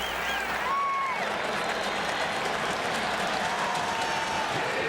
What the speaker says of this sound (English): You can feel this crowd getting into the ball game.